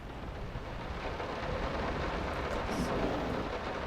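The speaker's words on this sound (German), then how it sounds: "Ein sehr lauter Regen wieder." Heavy, very loud rain pours steadily in the video game Layers of Fear, with a low thundery rumble underneath, continuous throughout.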